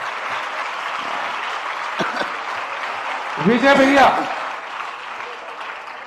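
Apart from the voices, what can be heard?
audience applause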